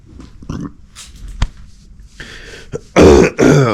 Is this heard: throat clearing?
yes